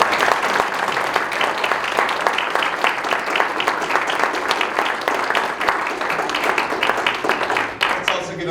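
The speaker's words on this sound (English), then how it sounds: "Please, let's give the candidates a round." A seated audience at a town council candidate forum claps steadily in a dense, sustained round of applause that fades out near the end.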